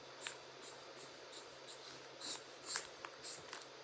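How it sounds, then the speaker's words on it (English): A pen scratches across butcher's paper while sketching, faint dry strokes arriving in short irregular bursts, some quick and light, others longer, in a quiet room with no speech. "I need to draw you a picture."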